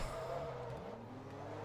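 A race car in Forza Motorsport 2 snaps loose and skids, its engine droning under a short tire squeal at low, steady volume, with no voices.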